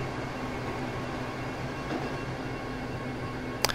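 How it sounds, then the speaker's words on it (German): An Intercity passenger train with a dining car passes in Transport Fever 2, a steady, even rumble of wheels on rails holding at a constant level, ending with a short sharp click near the end. "Einer der Intercities kommt uns hier noch entgegen."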